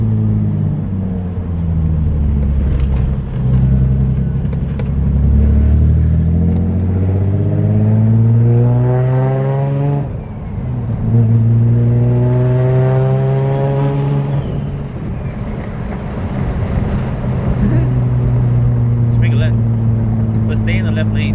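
A 600 hp turbocharged Nissan 350Z engine roars loudly from inside the car, its pitch climbing repeatedly through revs and gear changes, with sweeping rises and a brief dip midway.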